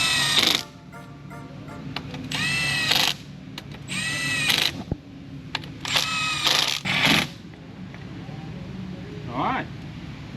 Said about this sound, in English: Alright, now we're torquing.